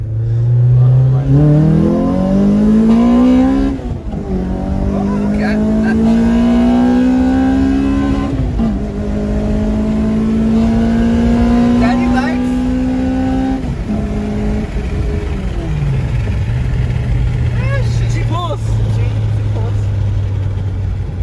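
A modified Toyota Corolla engine with Fidanza flywheel, pulleys and PPD header revs hard through sweeping rises and drops, loud and continuous, with a brief voice in the background.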